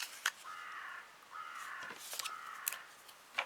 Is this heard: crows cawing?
yes